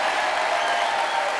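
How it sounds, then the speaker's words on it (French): A television studio audience applauds François Cluzet, a dense, even wash of many hands clapping close and loud for a brief stretch. "Applaudissements pour François Cluzet,"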